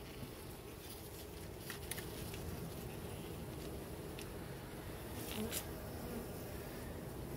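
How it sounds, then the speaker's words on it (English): Honeybees buzz steadily around an open hive in Southwest Florida, a continuous close drone of many wings with a few louder passes near the listener, and no talk. "We got lots of bees above that patty area."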